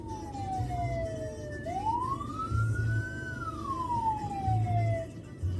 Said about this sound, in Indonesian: jadi kita pakai well 1 yang bunyinya seperti ini.